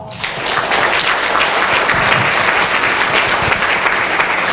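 A crowd claps together at a 3D printer company's product launch in Taiwan, a dense, steady burst of applause lasting a few seconds with no voices over it.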